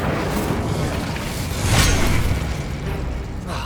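Incendio fire spell cast in Hogwarts Legacy: a dense whooshing rumble with a brighter fiery burst near the middle, loud and steady over low game ambience.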